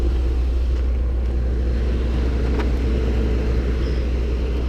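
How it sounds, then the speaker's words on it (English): With the hood open, the V10 Triton gas engine of a 2017 Ford F-650 box truck idles in a steady, low, even rumble with a faint fan whir, close by and uninterrupted, with no one speaking. "let's check out this V10 while it's running."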